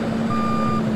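A truck's reversing alarm beeps in Farming Simulator 22, a steady electronic tone sounding continuously and fairly loud, with no talking.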